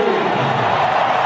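Stadium crowd at a Barcelona vs Juventus football match in 2018, a dense, steady roar of many voices that holds at a constant, loud level with no break, heard from within the stands.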